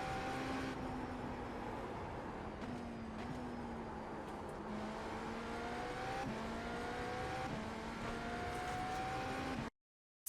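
A GTP prototype race car in the iRacing sim runs at full speed, its engine whining high and steady, pitch climbing through gear after gear with brief drops at each shift, then it cuts out abruptly.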